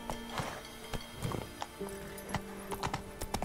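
Horse in The Witcher 3 video game, hooves clip-clopping in an uneven rhythm on a bridge, with a tonal hum running underneath and sharp hoof strikes close by.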